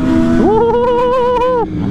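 A Suzuki DR-Z motorcycle scrapes along pavement during a squid ride, giving a loud, sustained grinding wail with a steady tone that holds for over a second over constant road and engine noise.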